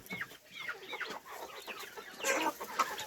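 Young chickens cluck and chirp in their straw-lined enclosure on a farm, a busy overlapping chatter of soft calls, fairly close but quiet, without talk.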